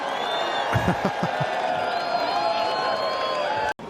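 A beach crowd cheers and whoops at a surf contest in Rio after a big aerial move, a broad steady roar with a few louder shouts, heard from a distance under a commentator's voice.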